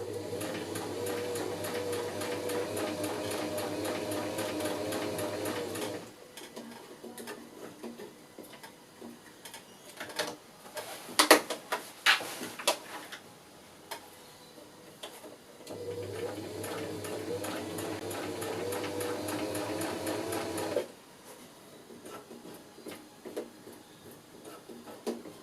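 A sewing machine stitches a pool blanket cover in two steady rhythmic runs of rapid mechanical clatter, separated by a quieter stretch of handling noises and a few sharp clicks, close by with no talking.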